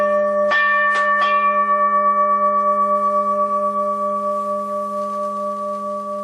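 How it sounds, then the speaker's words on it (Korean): A meditation bell in a Buddhist practice setting is struck three times in quick succession, then its clear, sustained ring slowly fades away, loud and alone with no voices. "이 종소리가 내 귀에서 완전히 사라질 때까지 종소리에 집중합니다."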